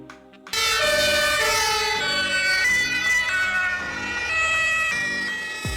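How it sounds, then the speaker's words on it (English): A loud fire ambulance siren kicks in abruptly after a brief moment and blares continuously, its tones cycling up and down without any speech. "Fire Ambulance."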